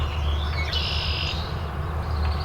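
A Baltimore oriole sings a loud, clear whistled phrase close by, standing out above a constant low outdoor rumble.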